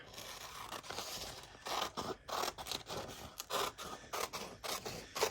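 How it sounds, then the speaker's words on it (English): Scissors trimming a paper napkin off junk mail for a junk journal, close and crisp, with a quick run of short snipping and rasping cuts in uneven rhythm and no voices. "let's trim that off from the get-go"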